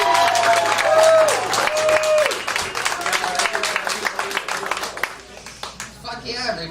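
Comedy Store crowd at a live Kill Tony show breaks into loud applause and cheering, dense clapping with whoops and shouts rising early, then thinning out as a voice begins talking over the fading claps.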